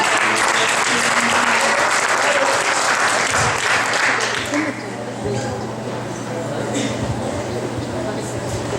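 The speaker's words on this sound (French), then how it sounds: "On l'applaudit pas ou quoi?" Loud applause fills a hall for a secondary-school student at a spelling bee. It holds steady for several seconds, then thins into scattered clapping and murmuring.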